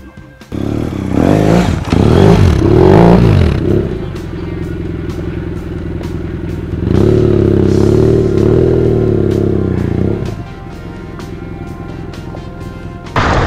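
Trail motorcycle on a steep off-camber slope in southern France, engine revving hard in loud surges that rise and fall, with clattering, a quieter idle between bursts and a final lower steady run.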